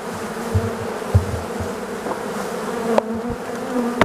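Dense, steady buzzing of many honeybees close by at a hive, with occasional soft knocks and bumps underneath.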